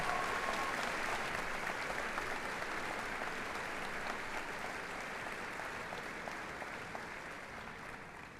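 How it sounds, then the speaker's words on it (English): An audience at a 2022 high school graduation ceremony applauds its commencement speakers, continuous even clapping that fades gradually over several seconds, heard at a distance. "One more round of applause for our two incredibly talented commencement speakers"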